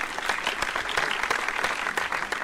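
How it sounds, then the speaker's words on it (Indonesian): Applause from the audience at a housing talk show, a lively burst of many hands clapping close and steady for a couple of seconds, with no speech over it. "Coba tepuk tangannya."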